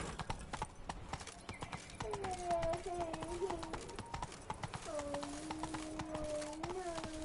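Horse hooves in The Witcher 3, a quick rhythmic clip-clop of galloping that runs steadily under a man's speech, with music tones drifting over it.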